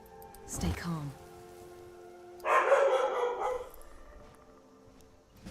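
A house dog barks indoors, upset at someone at the door, a short burst of barking that follows a person talking.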